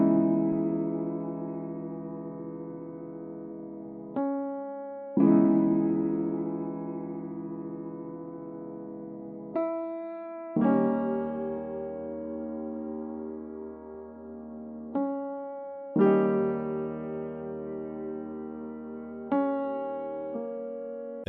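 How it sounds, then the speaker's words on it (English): Sustained sampled piano chords (Gentleman piano from Native Instruments Kontakt) change every few seconds in a slow progression, each new chord struck with a soft attack and left ringing, with no talking. "First thing we're adding in is a Gentleman piano from Contact."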